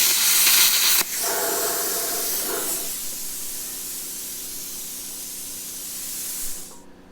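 A $200 plasma cutter slices through scrap metal with a loud, steady hiss and roar that runs almost the whole time, stronger and rougher in the opening second, then holds even before cutting off near the end.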